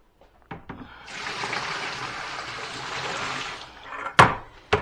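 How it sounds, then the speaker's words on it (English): A bucket of clean water poured out in a steady, moderately close splashing rush lasting a few seconds, bracketed by light knocks and a sharp clunk near the end. "now we're going to take this bucket of clean water, put it in here"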